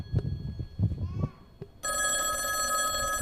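On a Vacation Bible School opening stage, the hotline telephone rings loudly a second time, its bell sustained and steady after a moment of children's chatter and stage talk.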